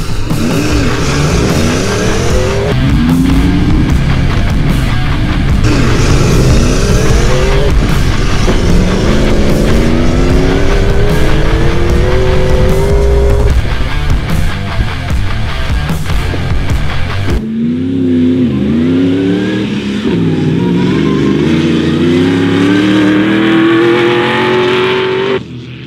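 Petrol and diesel built cars racing each other, engines roaring loud and close throughout, with rising revving sweeps as they accelerate and a sharper, higher whine toward the end.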